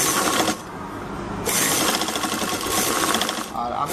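Sewing machine stitching blouse fabric: a loud, steady mechanical whirr of rapid stitching runs in long bursts with short pauses, while someone speaks over it.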